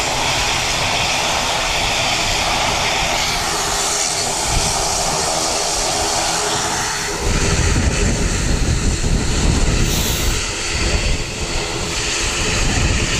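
An ATR72 turboprop airliner at Wellington Airport runs with a droning propeller hum and layered engine tones, surging into a louder, rougher roar about halfway through, with some wind buffeting at the microphone.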